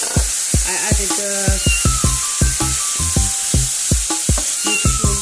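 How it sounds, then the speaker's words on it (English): Tempeh dry frying in a pan, a steady close sizzle with a regular pattern of soft knocks and scrapes from stirring, no talk. "It's still kind of dry frying in the pan."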